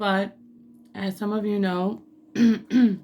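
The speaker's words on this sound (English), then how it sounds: "I may be clearing my throat because I just had a rough week." A person whose voice is still rough from a recent illness clears their throat between spoken words, close and fairly loud.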